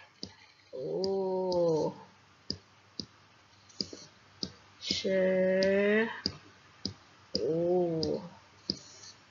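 An old computer mouse clicking sharply at an uneven pace, close and clear, while a cat meows in drawn-out cries three times in between the clicks.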